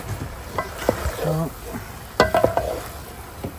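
Raw pork is mixed by hand with turmeric, salt, ginger, garlic and Sri Lankan curry powder, producing soft, wet squelching and stirring noises up close, with brief voice sounds in between.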